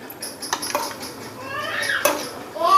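Stuffed brinjal masala (bharli vangi) stirred in a pan, with a spoon scraping and clinking against metal in short, uneven strokes, close and moderately loud, with a few sharper knocks near the end.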